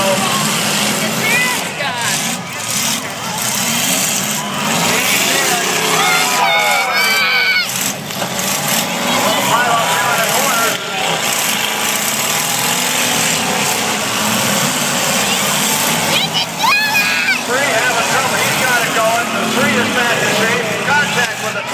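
Demolition derby at the Cheshire Fair: cars grinding and colliding in mud, engines revving under a steady crowd roar with a commentator talking throughout.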